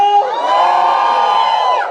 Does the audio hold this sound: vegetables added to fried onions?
no